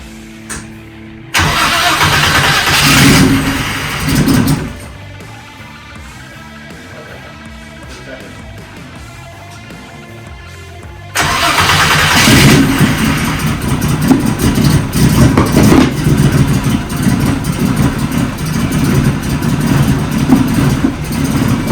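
A VR6 engine in a Mk2 car with a blown motor cranks and catches, first for a few seconds, then after a quieter gap it fires again and keeps running steadily and loudly up close.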